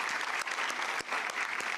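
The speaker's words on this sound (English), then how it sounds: "let's give these two champions, great souls, a round of applause as we celebrate them." Audience applause at a 2024 WRC rally launch event honoring two champions, steady dense clapping from a crowd throughout, fairly close and continuous with brief dips.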